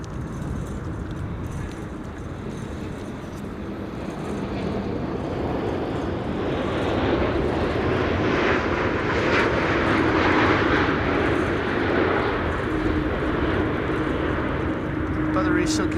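A windy day at Amsterdam Schiphol brings an airliner in to land, its engines roaring steadily and building gradually across the stretch while voices talk over the noise.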